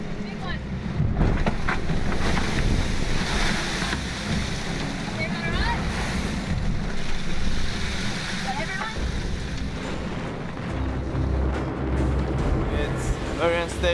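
Strong wind of 26 knots roars across the microphone while big waves slosh and pound against an ocean racing sailboat, a constant, rough, close-up rush of air and water.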